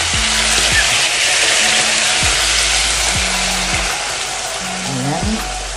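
Mushrooms fry in a hot pan for beef broccoli, giving a loud, continuous sizzle with occasional stirring scrapes and a low background hum.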